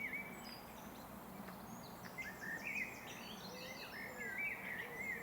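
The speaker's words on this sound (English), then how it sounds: "Plenty of blackbird song around today," Blackbird song outdoors on a countryside walk in Hertfordshire, with fluting, warbling phrases and chirps repeating through a soft ambient hiss, moderately near and clear, with no speech.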